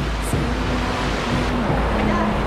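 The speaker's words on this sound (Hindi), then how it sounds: "और बारिश स्टार्ट हो गया है" Rain and rushing water fill a stream inside a cave, a loud steady wash throughout with a brief voice-like tone partway through.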